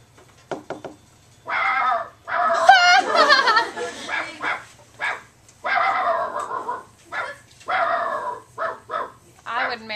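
A storyteller's voice mimics a dog barking during a children's tale, producing a series of loud, rough barks and yelps in bursts with short pauses between them.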